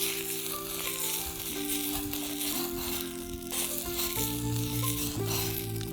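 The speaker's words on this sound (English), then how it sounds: "Greasing the pan with my Wagyu fat." Wagyu fat sizzling in a hot greased pan, a loud continuous crackle and hiss with a shifting tonal hum underneath and no talk.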